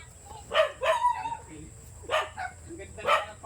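A dog barks in short bursts, about four times over a few seconds, at moderate distance outdoors on rural farmland, with people talking nearby.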